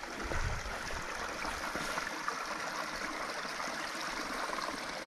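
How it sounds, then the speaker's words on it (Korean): A small mountain stream flows beside a winter hiking trail near Goat Peak, giving a steady, close rush of trickling water that carries on unbroken with no talking. "개울도 흐르고"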